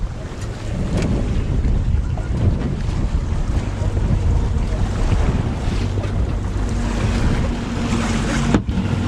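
Strong wind roars at sea around a boat, gusting steadily over the hull and nearby waves, loud and close to the microphone, with no talk.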